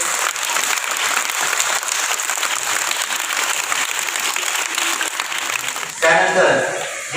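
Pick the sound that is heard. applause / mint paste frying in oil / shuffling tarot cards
applause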